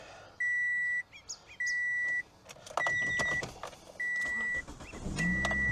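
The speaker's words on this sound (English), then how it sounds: "Let's go ahead and get this car started." A 2005 Toyota Matrix XRS with a six-speed manual is being started: repeated steady electronic chimes and beeps sound inside the car, then the engine cranks and catches with a low rumble near the end, close up.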